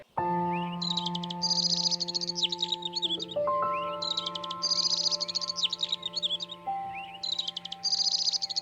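Cartoon bird chirping in repeated bright bursts of tweets, three clusters over a sustained tonal musical background, clear and close with no speech.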